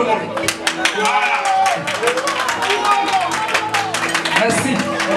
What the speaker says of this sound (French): vous applaudissez plus que tout le monde